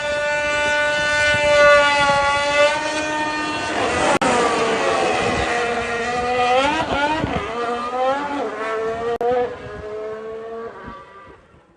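An Audi race car engine is held at high revs for a start, a loud harmonic howl that wavers, surges and then drops away in pitch near the end.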